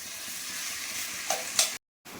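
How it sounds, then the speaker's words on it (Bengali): Potatoes being broken up and stir-fried in a pan make a brief, soft sizzle with a couple of scraping stirs. A short silent gap comes near the end. "আলুগুলো এরকম ভেঙে ভেঙে ভেঙে ভেঙে দিয়ে ভালো করে একটু কষে নিই"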